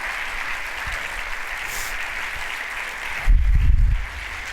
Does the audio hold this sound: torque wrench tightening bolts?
no